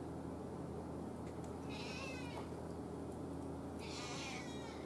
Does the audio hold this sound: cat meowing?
yes